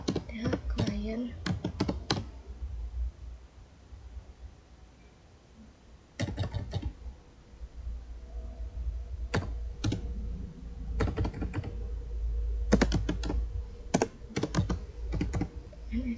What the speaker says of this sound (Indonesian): Saya akan ketik perintah sudo